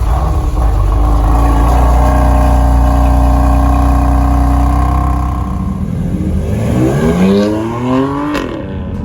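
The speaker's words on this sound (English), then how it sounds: "this car also has a factory BMW titanium exhaust, and it sounds absolutely insane" A modified BMW F80 M3 with the factory titanium exhaust revs hard, a loud close engine roar holding high, then dropping and sweeping up again through quick rising blips.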